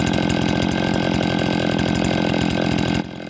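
A small two-stroke engine runs steadily at a high, buzzy rev during carburetor adjustment, loud and close, then drops to a slightly lower, quieter speed near the end.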